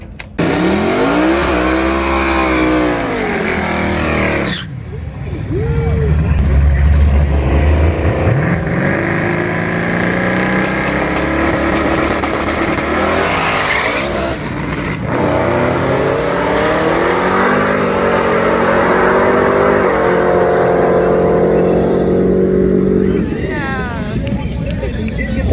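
Drag race cars launching and running side by side at a Tulsa drag strip, loud continuous engine roar with revving and rising pitch throughout, crowd babble and voices mixed in.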